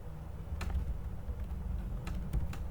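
Soft, sparse keystrokes on a computer keyboard as Python code is typed, a handful of light clicks spread across a few seconds over a low background hum, with no one speaking.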